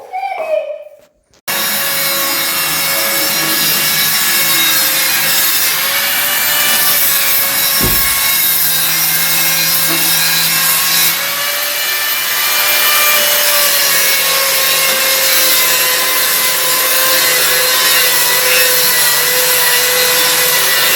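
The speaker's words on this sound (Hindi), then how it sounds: "ये शायद पत्थर की घिसाई होनी है, जो भी आप देख रहे थे।" A power tool grinds and polishes stone for a stone cabinet, a loud continuous whining abrasive roar that starts abruptly after a brief quiet moment and runs steadily with slight changes in pitch.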